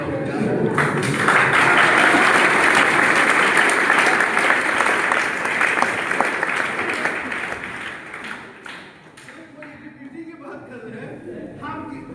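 An audience breaks into sustained applause that gradually fades, with a voice speaking over the tail end as the clapping dies down.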